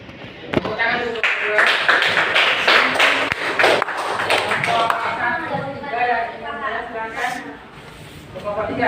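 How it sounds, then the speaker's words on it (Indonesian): A classroom group of student teachers claps for a few seconds in a burst of overlapping hand claps, with voices talking through and after the clapping. "Tepuk tangan dulu."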